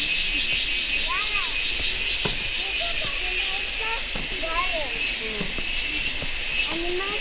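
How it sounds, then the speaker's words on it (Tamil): Stream water at Abbey Falls in Coorg makes a steady broad rush, with a constant high insect drone layered over it; someone talks quietly over the scene throughout. "இந்த பூச்சி சவுண்டு, அப்படியே ஸ்ட்ரீமோட சவுண்டு."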